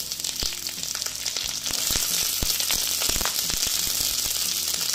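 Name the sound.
frying carrots and cauliflower in tempering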